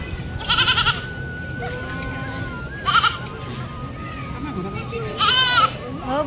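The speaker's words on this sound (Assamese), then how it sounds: "বাবুৰ মালা খাই দিছে ছাগলী" A goat at Kamakhya temple bleats three times in short bursts spaced a couple of seconds apart, fairly close, over steady crowd murmur and people talking.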